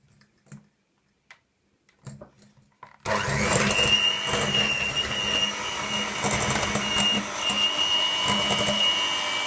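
Pie batter being mixed with an electric mixer, starting abruptly after a few quiet seconds with light clicks, then a loud steady whirring drone with a high whine that runs on continuously.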